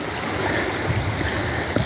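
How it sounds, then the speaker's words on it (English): Water flows along Lynx Creek in a steady, close rushing wash with small splashes and gurgles on top, even in level throughout and with no talking. "Going back up the creek."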